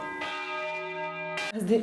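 Clockmaker's bells ring out in a long sustained chime with rich overtones, a second strike following near the end, loud and close with no talk over it.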